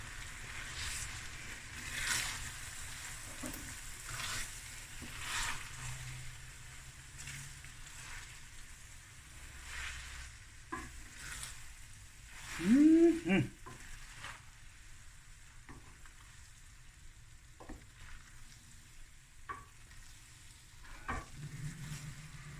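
Tuna spaghetti simmers with a faint sizzle in a pan while being stirred, soft scraping and bubbling at low level with a few louder knocks and a brief squeak midway.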